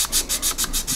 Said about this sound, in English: You can go through different levels of sanding sticks and sanding, really get this polished nice